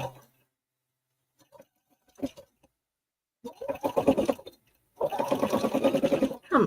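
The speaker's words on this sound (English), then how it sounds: "I don't usually do my sewing live and on the air." A sewing machine stitches fabric in short bursts, the motor whirring in two longer runs after a few brief taps, fairly close, with quiet pauses between.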